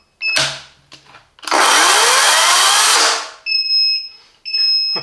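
A Parkside 40V cordless chainsaw, model PKSA 40-Li B2, runs up in short bursts: a brief whir, then a sustained high whine for about two seconds, and sharp electronic beeps between the runs.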